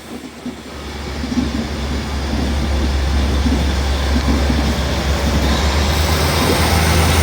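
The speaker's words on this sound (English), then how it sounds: "Off goes the 1710 Northern Train service to Whitehaven," Northern passenger train pulling out of Carlisle station toward Whitehaven, a steady low diesel rumble building over the first seconds, then holding loud and close with rolling wheel noise.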